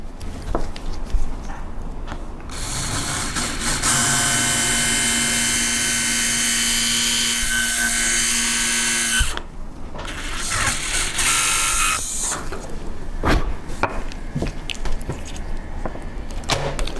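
A dental implant drill runs in a steady high whine for several seconds, close and loud, framed by clicking and handling noises before and after.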